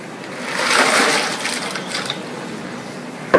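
A bucket of ice water is dumped over a person for the ALS Ice Bucket Challenge, giving one loud gushing splash that swells and then tails off, followed by a sharp knock at the end.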